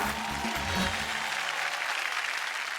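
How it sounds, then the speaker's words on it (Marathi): Sustained, dense applause from an audience for a woman at a televised entertainment show, a steady wash of clapping filling the room with some low murmur beneath at the start. "जोरदार टाळ्या झाल्या पाहिजेत ताईंसाठी"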